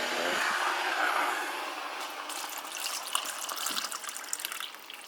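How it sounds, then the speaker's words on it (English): Warm water is poured for raspberry lemon tea, a soft gushing pour that thins into a brighter trickle and a few light splashes, fairly quiet and without talk. "Okay, pour the water in there."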